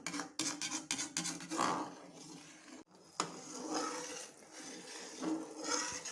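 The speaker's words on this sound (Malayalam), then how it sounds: "നമ്മൾ വീണ്ടും ഇളക്കി കൊടുത്തോണ്ടേ ഇരിക്കുക നന്നായിട്ട് ഇളക്കി കൊടുക്കുക" Coconut milk is stirred steadily in a pan during homemade coconut oil cooking, with continuous close scraping and metallic clinks of a spoon against the pan's sides, dense and unbroken.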